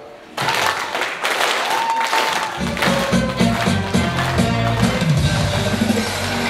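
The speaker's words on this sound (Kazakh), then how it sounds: "Осы енді музыкамен ұрайықшы, шапалақты" An audience at a Kazakh celebration for an elderly mother claps along with festive music. The rhythmic clapping is dense and steady, mixed into loud music throughout, with voices faintly underneath.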